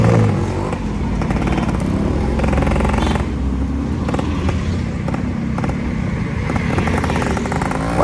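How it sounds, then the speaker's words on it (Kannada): Yamaha RX100 motorcycle with a modified exhaust and silencer idling close by, a loud continuous two-stroke burble with rapid popping pulses and slight rises in revs. "ಒಳ್ಳೆ ಎಕ್ಸಾಸ್ಟ್ ಮಾತ್ರ ಸೈಲೆನ್ಸರ್ಗೆ ಸಕ್ಕದಾಗಿ ಮಾಡ್ಕೊಟ್ರು"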